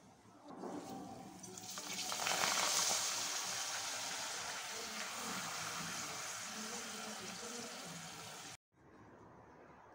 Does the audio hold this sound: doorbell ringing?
no